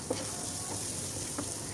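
Sliced onion and green chillies frying with a pinch of salt in a pan for a pumpkin dish, a steady close sizzle with a couple of soft stirring scrapes, no voices.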